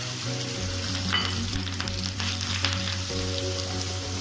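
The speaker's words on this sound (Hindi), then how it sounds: "जीरा अच्छे से तड़क गया है, तो यहीं पे डाल देते हैं प्याज रफली चॉप किया हुआ।" Roughly chopped onion drops into hot oil already crackling with cumin seeds, dried red chillies and bay leaf, giving a steady, close sizzle with faint stirring scrapes throughout, no voices.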